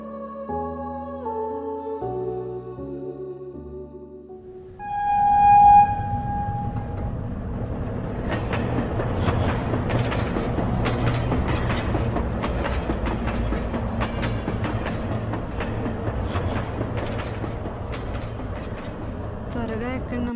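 A train pulls into a station bound for Siberia, its rumbling wheels and clattering carriages building after a short musical opening and continuing steadily, with voices speaking over the noise.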